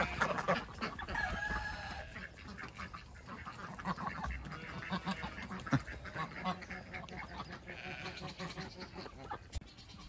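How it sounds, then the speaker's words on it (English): Ducks and chickens let out on a homestead make a busy barnyard clamor of quacking, clucking and crowing, with bleating goats or sheep mixed in and a voice faintly under the noise. "Ducks are one of the funnest but dirtiest animals on our farm."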